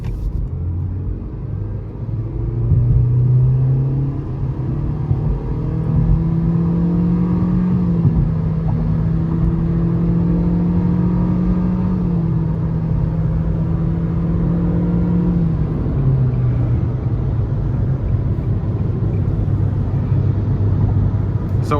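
A 2023 Nissan Versa SR with a 1.6-liter four-cylinder accelerates hard onto an interstate, its engine drone climbing steadily for several seconds before easing into a lower cruising rumble, heard from inside the cabin without talk.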